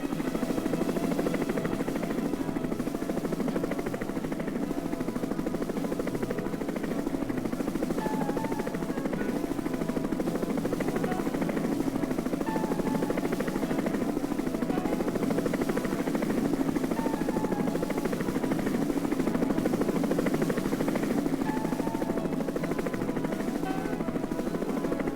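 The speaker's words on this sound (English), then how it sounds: "With much noise, but with great deftness, the hovering sky crane lowered each part into place." A sky crane helicopter hovers low over a lake lined with willows while lowering parts into place, its loud, steady rotor thrash and engine drone running unbroken throughout, with no voices.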